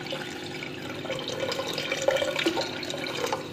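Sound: water poured into a pressure cooker

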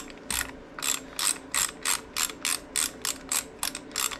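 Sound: ratchet loosening a bolt on a Harley Sportster

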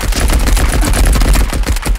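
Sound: gunshots in a video game

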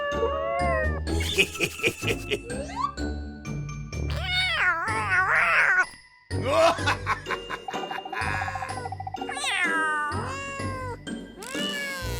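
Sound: cat meowing

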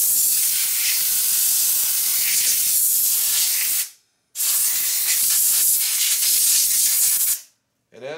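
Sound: air blowing dust off a motorcycle clutch plate

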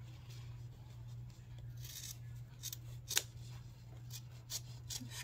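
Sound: scissors cutting pocket out of jeans

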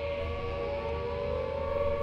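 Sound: air raid siren

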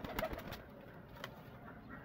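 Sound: pigeon cooing

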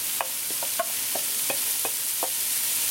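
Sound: chopped onions frying in a Dutch oven

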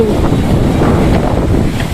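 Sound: strong wind at a fishing harbour

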